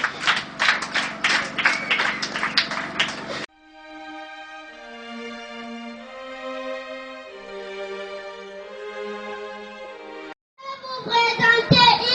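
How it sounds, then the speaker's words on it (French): Children and adults at a school donation ceremony for low-income families clap and cheer loudly for a few seconds, then a sustained tonal melody plays, followed by a short renewed burst of clapping. "Les acclamations."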